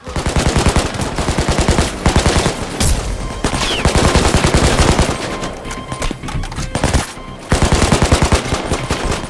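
Loud automatic gunfire from the heist shooter Payday 2, clown-masked career criminals firing, rattling out in dense rapid bursts with only brief pauses, steady and close throughout with no talking.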